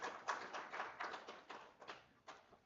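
Faint, scattered hand claps from an audience at an academic workshop, a short uneven round of applause heard from a distance.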